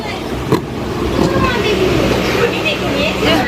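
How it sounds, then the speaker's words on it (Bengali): A train rumbles and clatters as it moves off, a steady low mechanical roar with a sharp knock early on, while people talk over it. "ট্রেন ছেড়ে দিল"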